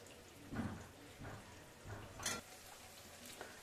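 Spice masala with cashew and melon seed paste being stir-fried in a pan for an Indian potato curry, heard as faint sizzling with a few soft scraping stirs of a spatula at irregular intervals.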